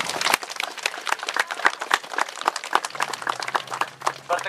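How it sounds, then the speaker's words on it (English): A round of applause at an outdoor street dedication ceremony, dense claps filling the whole stretch at steady loudness, with a faint low hum entering near the end. "I think we owe him a sign of our appreciation by a nice round of applause"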